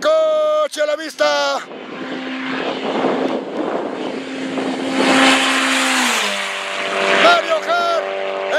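A rally car on a Caminos del Inca stage between Arequipa and Lima: a loud engine roars closer, swelling into a strong pass with shifting revs, and brief voices are heard at the start.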